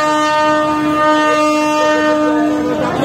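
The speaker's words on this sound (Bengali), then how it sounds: "ব্যাক গিয়ার দিচ্ছে কীর্তনখোলা 10" Passenger launch Kirtankhola 10 on the Kirtankhola river near Barishal, its engine shifting into reverse gear: a loud, steady, close-up engine drone with strong tonal hum, continuous throughout with no talk.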